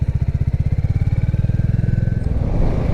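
A 2022 Royal Enfield Classic 350 single-cylinder engine thumps in a close, loud, even pulse, then the beat blurs into a smoother roar as it revs up near the end.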